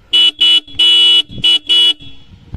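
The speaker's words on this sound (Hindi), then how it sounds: "कंपनी ने बी एस सिक्स में डोल हॉर्न दिया है बाय डिफ़ॉल्ट आपको बजा कर दिखा देता हूँ" A loud dual-tone horn on a Yamaha R15 V3 BS6 motorcycle honks five times in short and longer blasts, close by, with a brief mechanical clunk between honks.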